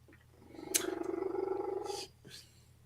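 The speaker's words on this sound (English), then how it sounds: "a cat laying behind me, purring his head off" A house cat purrs loudly nearby, a rough, rumbling drone that swells up, holds for over a second and stops abruptly.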